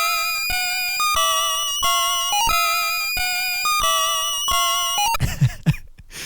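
Chiptune music from Resident Evil Gaiden on the Game Boy Color: a repeating, bright square-wave melody over a pulsing rhythmic bass loop, ending abruptly in a short burst of noisy sound effects.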